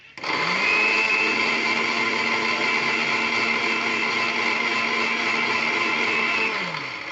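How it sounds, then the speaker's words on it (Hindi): A mixer grinder runs on its second speed setting for about six seconds, a loud, steady, high whirring motor drone that starts and stops cleanly. "उसके बाद हमें दूसरे गियर पे 15 सेकंड तक चलाना है"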